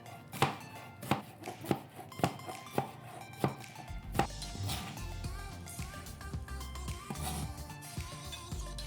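Knife chopping plum tomatoes for gazpacho on a board: about seven sharp, evenly spaced chops close up, then denser, softer cutting and scraping with kitchen clatter toward the end.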